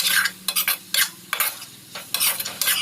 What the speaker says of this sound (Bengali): শাকগুলো ভালোভাবে মিশিয়ে ভাজা